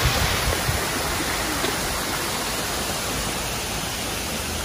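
A small river littered with trash flows beside a roadside stop in Lampung, Indonesia, producing a steady, close hiss of rushing water that never changes over several seconds, with no voices.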